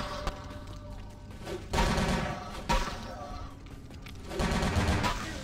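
Gunfire in the video game Vampire the Masquerade: Bloodlines, several loud bursts of rapid automatic shots separated by brief lulls, close and harsh, with a quieter busy game background between volleys.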